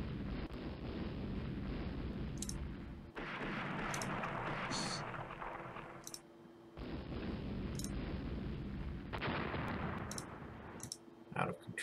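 Naval gunfire from a battle cruiser in the Rule the Waves warship strategy game, heard as a long series of loud, heavy booming salvos over a steady roaring rumble, with several sharper bursts near the end.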